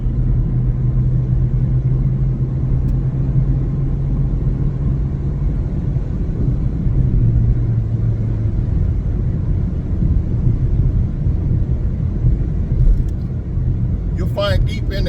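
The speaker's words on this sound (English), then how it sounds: "this bus is going fast" A bus interior while driving fast, a constant low engine and road rumble with a steady droning hum, heard beneath a person talking throughout.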